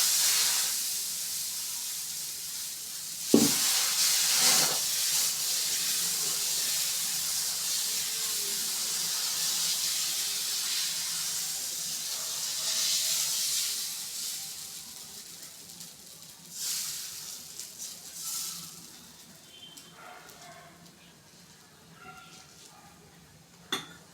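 Dosa batter sizzles and steams on a hot pan, a broad bright hiss that swells and fades over the cooking, with a few sharp clatters of utensils against the pan.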